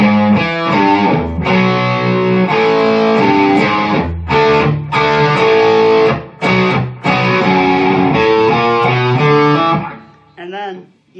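Overdriven electric guitar plays a riff at a slow tempo, loud and up front, with repeated chord stabs separated by short clipped gaps before a brief tail at the close.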